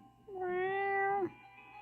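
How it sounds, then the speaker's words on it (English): A single drawn-out cat meow from the video game Twisted Wonderland, clear and tonal, rising slightly and then cutting off, heard alone against a quiet background. "Aw, the kitty."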